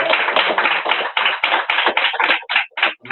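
A church congregation claps together in a brisk, steady rhythm of close, loud handclaps that loosen into scattered final claps.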